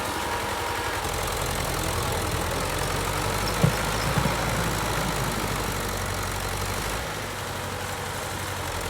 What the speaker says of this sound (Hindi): अब देखते हैं कि कितनी बार कोशिश करके ये ट्रैक्टर इस दलदल से बाहर निकलता है